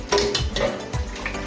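A spoon stirs a thick horse gram curry mixture with tomato, ground coconut, turmeric, chilli and coriander powder in a pot, giving a few quick scraping, clinking strokes close by.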